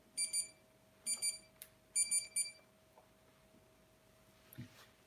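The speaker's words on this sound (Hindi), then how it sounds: "देखो हमारे रात के 12 बज गए, अलार्म बजना शुरू हो गया।" A digital alarm clock goes off at midnight, sounding three quick bursts of rapid high beeps in an even rhythm, moderately faint over a steady low electrical hum.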